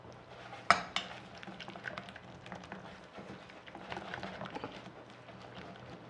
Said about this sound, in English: Now just mix them up thoroughly.